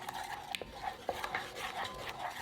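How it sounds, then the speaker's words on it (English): Garlic is stir-fried with creamy peanut butter and hoisin sauce in a pan, giving soft, irregular scraping and clinking of a utensil against the pan over a faint sizzle, quiet and close. "and stir fry for about 1 minute."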